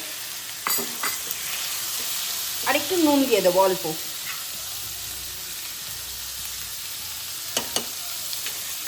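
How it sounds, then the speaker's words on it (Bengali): Shrimp sizzle steadily in hot oil with occasional stirring scrapes, and someone briefly speaks over the frying. "চিংড়ি মাছটা আমি ভেজে নিচ্ছি"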